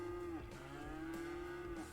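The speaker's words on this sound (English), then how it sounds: "cow!" A cow moos loudly in the city-building game Cities: Skylines, one long sustained bellow with a steady pitch running almost the whole time, close and prominent.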